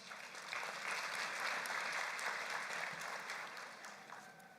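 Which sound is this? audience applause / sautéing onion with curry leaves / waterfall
audience applause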